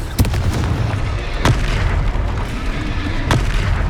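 Confringo spell explosions in the video game Hogwarts Legacy, three sharp booming blasts spaced a second or two apart over a continuous loud rumbling bed of game sound.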